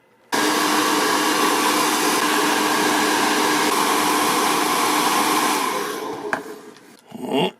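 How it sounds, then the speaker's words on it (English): A blow dryer heats the plastic of a McFarlane DC Multiverse action figure, a loud, steady airy whoosh running close and alone for about six seconds before it tapers and cuts off. "First I used the blow dryer to soften the plastic"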